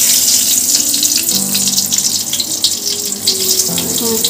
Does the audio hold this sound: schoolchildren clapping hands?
no